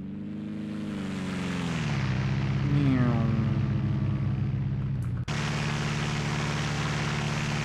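Simulated Carenado F33A Bonanza single-engine propeller plane in X-Plane 11 making a flyby, its droning engine rising in pitch and then dropping as it passes close, followed by a steady roar.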